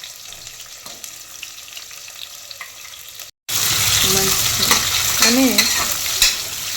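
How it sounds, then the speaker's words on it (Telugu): Onions frying in a pan for paneer biryani, a steady close sizzle with stirring scrapes that starts loud after a brief cut, with a voice speaking over it. "ఆనియన్స్ బ్రౌన్ కలర్ వచ్చేంత వరకు వేయించుకోవాలి"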